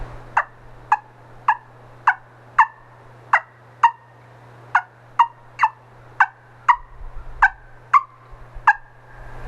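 A wing bone turkey call, blown by mouth, makes about seventeen sharp, evenly spaced clucks with a slight yelping lilt, close and clear over a faint low background hum, with no speech.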